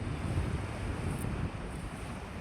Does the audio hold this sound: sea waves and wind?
yes